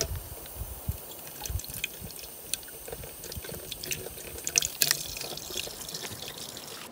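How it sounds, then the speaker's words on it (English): An outdoor drinking water tap in the British countryside runs with a faint, steady trickle and scattered drips, soft and somewhat distant, with no voices. "Every now and again, I'd come across drinking water taps in the middle of nowhere."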